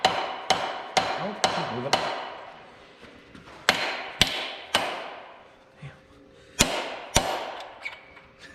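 Sharp metallic hammer blows strike a tapered Cutlass engine part in irregular bursts, several quick hits then pauses, ringing briefly each time; a voice speaks once between strikes.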